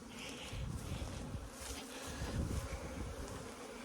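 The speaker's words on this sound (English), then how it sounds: "Bees, bees, bees, boxes of bees." Swarm of bees droning steadily around open beehive boxes, a dense continuous buzz close by with rising and falling intensity and no voices.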